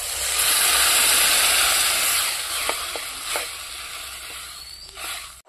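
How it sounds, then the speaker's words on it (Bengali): Water poured into a pan of fried onions, turmeric and spices bursts into a loud, steady sizzle and hiss that slowly settles, with a few faint clinks of stirring. "আমি এখন ঝোলের জন্য একটু জল দেবো।"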